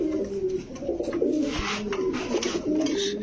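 Lahori pigeon, a large round-bodied breed, cooing in a cage with a few repeated low throaty coos at close range, alongside faint background voices and noise.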